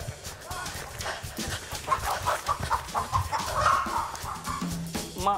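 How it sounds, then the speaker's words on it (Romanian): A small red bantam rooster clucking in a farmyard, repeated short bursts mixed with scuffling, close and fairly loud, with people talking and shouting over it. "Băi, frate, m-a alergat cocoșul ăla."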